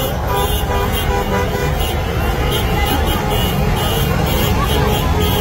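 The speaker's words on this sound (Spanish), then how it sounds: "Este americanista festejó con todo y bocinas." Car horns toot repeatedly amid steady traffic noise and a crowd's babble, a busy street celebration of a Club América football championship with honking rising above the din.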